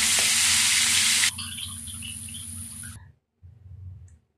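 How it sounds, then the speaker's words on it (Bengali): Bangladeshi tilapia fish frying in hot oil, a loud close sizzle that drops abruptly to a softer crackle, then cuts out and returns briefly. "এই যে বাংলাদেশি তেলাপিয়া মাছ রান্না করব, ভাজি করছি।"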